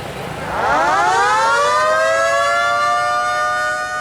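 A loud warning siren before a building implosion in Bradford winds up from low to a sustained high wail, rising steadily and then holding its tone with no voices.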